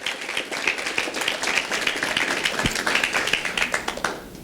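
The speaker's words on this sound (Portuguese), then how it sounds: "Você pode dar uma salva de palmas a Jesus por causa disso?" A church congregation claps in applause during a sermon, dense and steady throughout with no talk over it.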